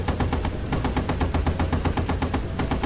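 Rapid anti-aircraft gunfire in the video game Battlefield 1943, a steady rhythmic stream of sharp repeated shots, loud and close, continuing without pause and with no talk over it.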